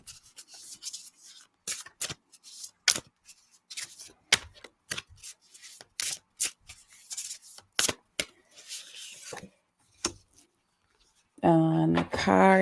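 A deck of oracle cards being shuffled by hand: a series of short, separate riffling and rubbing bursts with pauses between, followed at the end by a person speaking.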